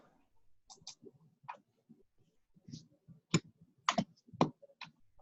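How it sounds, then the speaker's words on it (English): Clicky typing on a computer keyboard picked up by someone's open microphone during an online coding class, a few scattered bursts of key presses, fairly faint and close, with no talking. "whoever's got their mic on and is typing"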